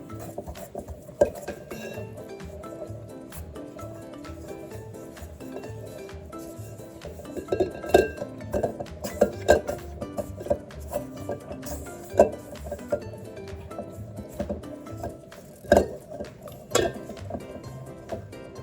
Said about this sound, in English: I put it in a mixing bowl and I use this guy to mix it up.